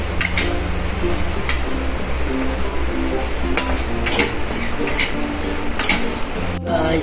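Sabudana roasting in ghee in a pan over a medium gas flame, with steady stirring scrapes and repeated metallic clinks of a spoon against the pan, close and continuous over a low background hum.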